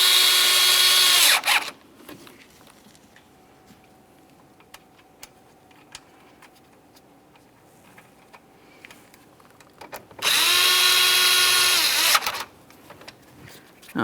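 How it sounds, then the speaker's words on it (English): A power drill drives screws while a headlight is fitted on a 2017–2024 GMC Acadia, two loud whirring bursts near the start and end with a quiet gap of faint ticks between. "Start in the screws, snug it up."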